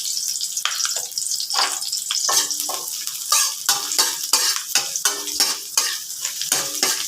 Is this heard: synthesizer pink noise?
no